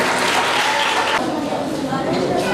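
An audience applauds a guest being welcomed at a school Independence Day celebration, a dense, steady wash of clapping throughout, fairly loud and close.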